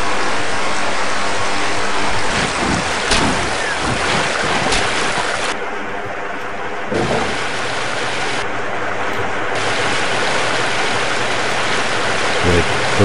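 Waterfalls in the video game Half-Life: Blue Shift roar as a steady, loud wash of rushing water, briefly dipping in brightness midway, with occasional thumps and no clear talk.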